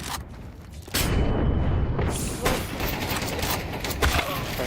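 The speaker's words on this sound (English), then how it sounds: "Flashbang." A flashbang grenade goes off in a shooter video game. A sudden loud blast about a second in is followed by sustained dense noise.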